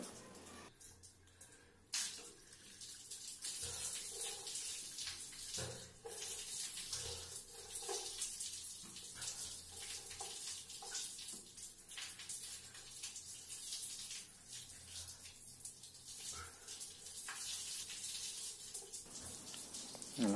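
Water is poured slowly over a person's head during a bath, giving a continuous soft splashing and trickling stream with scattered drips and splashes, faint and close, with no talking.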